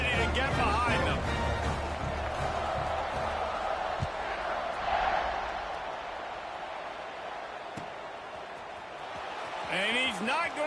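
Football stadium crowd at a Tennessee Volunteers game, a sustained broad roar of many voices just before kickoff, loud and continuous with swells, with a commentator talking over it.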